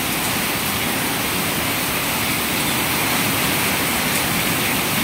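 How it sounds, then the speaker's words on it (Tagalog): Very heavy typhoon rain pours down in a steady, dense roar that fills the whole clip with no pauses or voices. "Sobrang lakas ng ulan."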